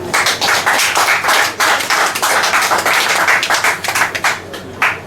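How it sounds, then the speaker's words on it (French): Football tournament teams clapping for themselves outdoors, close, loud and steady, with clustered hand claps running rhythmically throughout. "Vous devez applaudir pour vous-même."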